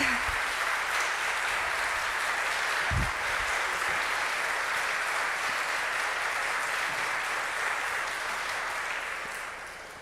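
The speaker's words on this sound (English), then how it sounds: "would you stand up so we can all give you a little round of applause?" Steady applause from a crowd, sustained and fairly loud throughout, easing off slightly at the very end.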